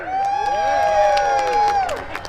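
Spectators at a truck pull cheer, led by one loud, drawn-out whooping yell that rises and falls over a backdrop of crowd noise and scattered claps.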